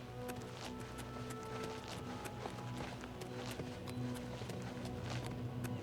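Rhythmic hoofbeats of a galloping horse in Oblivion Remastered pound steadily throughout, with a continuous game-like ambient hum underneath.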